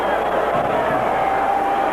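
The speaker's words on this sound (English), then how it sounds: "Crowd chanting," A boxing arena crowd keeps up a steady, massed chant of a fighter's nickname, a continuous roar of voices that fills the whole moment.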